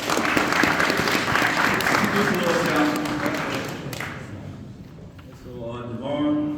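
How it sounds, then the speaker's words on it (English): An audience applauding at a team media day, a steady burst of clapping that fades after about four seconds, followed by a voice speaking. "so let's clap it up for that"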